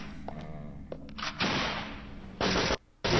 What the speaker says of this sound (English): Oh, the gun range.